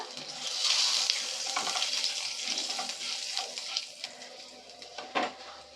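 Black cumin seeds and two bay leaves hit hot oil for a crab curry, giving a soft hiss and crackle that swells then fades, with faint stirring clicks and a low background hum.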